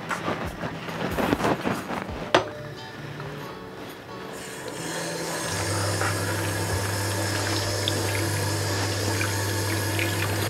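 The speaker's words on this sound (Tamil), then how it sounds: "டீ ஆற்ற போகிறேன்." Masala tea is poured back and forth between vessels to cool it, first in choppy splashing bursts, then as a steady, close stream of liquid running on without talk.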